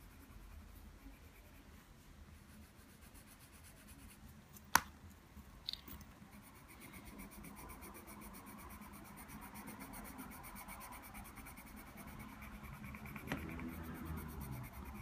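Coloured pencil shades across paper in a soft, faint, continuous scratchy rub, with a couple of sharp clicks early on and quiet handling noise throughout.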